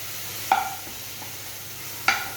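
Poppy seed paste with tomato paste being stirred in a pan over low sizzling, two distinct sharp scrapes of a spoon against the metal about a second and a half apart, close and without voices.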